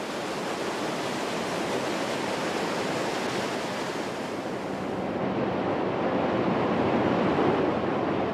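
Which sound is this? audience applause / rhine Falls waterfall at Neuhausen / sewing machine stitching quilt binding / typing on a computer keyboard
rhine Falls waterfall at Neuhausen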